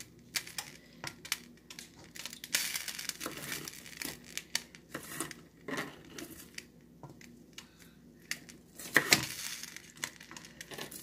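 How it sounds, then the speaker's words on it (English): Chopped onion cooking in a pan, meant for Beyond Burgers, gives off a soft irregular crackle and faint crinkly sizzle, with scattered small pops and utensil clicks, close and quiet, with no talk. "I'm going to go ahead and put some onion in the pan."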